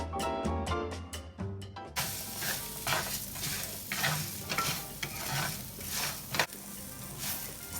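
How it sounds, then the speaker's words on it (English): Rice and vegetables sauté in a pan, starting with a few clattering knocks, then a loud steady sizzle with repeated scraping stirs close up. "once your vegetables have been sauteing for about 5 minutes and your rice has a nice golden color to it"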